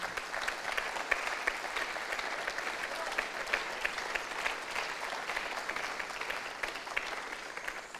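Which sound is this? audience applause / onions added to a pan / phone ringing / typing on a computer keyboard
audience applause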